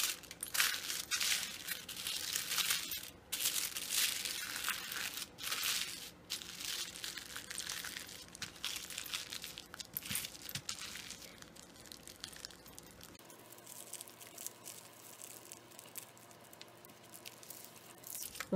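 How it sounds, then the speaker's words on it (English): Aluminum foil being folded around a pipe cleaner for a shiny heart ornament, a steady close crinkling and crumpling that quiets toward the end. "I'm going to place my pipe cleaner down and fold the aluminum foil around it."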